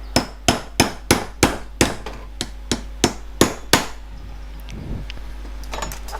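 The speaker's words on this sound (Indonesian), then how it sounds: "Jadi kita akan menggunakan palu." A hammer taps to pry open the plastic case of an LG monitor power adapter, about ten sharp, evenly spaced strikes close up, then a few softer scattered knocks and handling noises.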